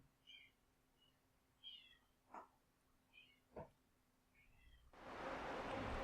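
A house cat wanting to be let in gives several faint, short meows spaced a second or so apart, with a couple of soft knocks or taps between them, before a louder rush of noise at the end.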